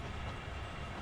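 Train running in Train Sim World 6, a low, steady rumble heard alone for about a second.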